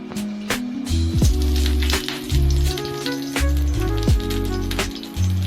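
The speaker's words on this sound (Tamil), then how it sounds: "இப்போ மீன் வறுக்க போகிறோம்" Fish frying in hot oil, a steady dense sizzle and crackle with bursts of bubbling that swell and ease throughout, close and fairly loud, with no voices.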